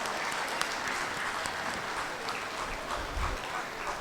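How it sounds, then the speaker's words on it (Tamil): Parents at a play-way school convocation and annual day celebration give the staff loud, sustained applause, a thick wash of many hands clapping continuously throughout, with a few sharper claps standing out. "நீங்கள் பலத்த கரகோஷம் கொடுத்து அவங்கள ஆசீர்வாதம் பண்ணணும்."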